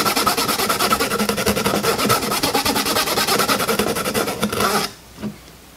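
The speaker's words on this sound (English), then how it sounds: "we're going to be taking our scrubbing pad and going one over the pin connectors." A scrubbing pad rubs back and forth over the corroded pin connector of an NES cartridge, a loud rhythmic rasping of quick strokes for about five seconds, then stopping to near quiet.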